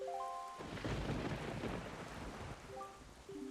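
Steady heavy rain pours on a cursed island in Wind Waker, with a deep rumble of thunder rolling beneath it and brief musical chimes at the start and end.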